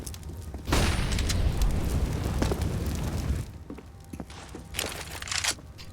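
A grenade goes off in Counter-Strike on the Vertigo map, a sudden loud blast with a long roaring tail lasting a few seconds, followed by scattered gunfire and game noise.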